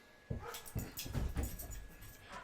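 A dog whimpers and yips in short, eager bursts for its toy indoors in Doral, Florida, several quick close cries in a row, fairly quiet.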